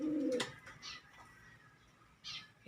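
Pigeons, including a Native Red Check, give a low, close coo at the start, followed by a couple of faint, brief chirping calls in a quiet setting.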